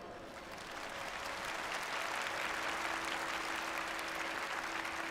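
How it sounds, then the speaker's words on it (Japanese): Audience applause at a fan fest keynote, a dense wash of clapping that swells in quickly and holds steady and loud from a large crowd, with a faint sustained tone running beneath it. "私と一緒に立ち回り助けてくださる方はぜひ拍手をお願いします。"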